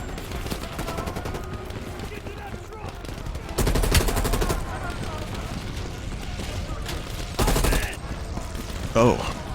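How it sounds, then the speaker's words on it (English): Gunfire in Call of Duty: Black Ops Cold War: steady rattling automatic fire runs throughout, with two louder bursts of heavy shooting standing out above the continuous battle noise. "I definitely did not shoot that guy. I shot the other guy."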